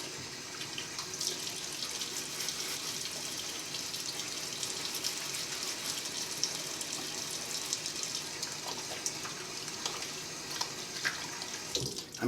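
Tap water runs steadily into a sink while a face is wetted for a shave, a continuous close splashing stream with small shifts in flow and no talking.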